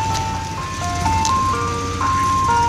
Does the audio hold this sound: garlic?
no